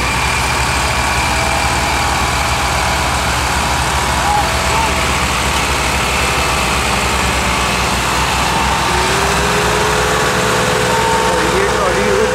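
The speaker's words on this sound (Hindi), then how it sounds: "अभी तीन ट्रैक्टर और तीनों ही MF260 हैं" Several Massey Ferguson MF260 tractors run their engines hard together, pulling a heavily loaded trolley of maize out of the mud at harvest. The result is a steady, loud, low engine drone that continues throughout, with some rising whine near the end.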